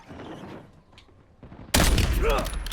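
Gunfire in the video game Warzone, a sudden loud barrage of shots bursting in after quieter game ambience, dense and sustained to the end.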